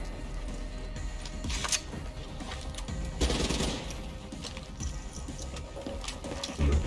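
Rifle gunfire in the video game Call of Duty Black Ops 3 crackles in scattered bursts of sharp shots over busy battlefield ambience, some shots louder than others.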